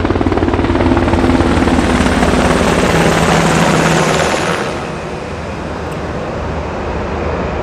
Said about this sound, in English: another helicopter